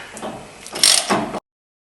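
A hand ratchet spins out brake caliper bolts on a 2007-2017 Chevy Silverado, a short burst of close metallic clicking lasting just over a second before cutting to silence.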